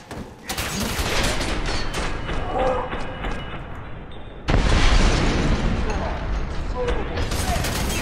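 Heavy gunfire and blasts in the shooter game F.E.A.R. 3, a dense, loud clatter of shots and booms with a sudden surge in intensity halfway through, voices faintly mixed in.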